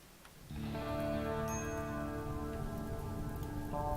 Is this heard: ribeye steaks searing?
no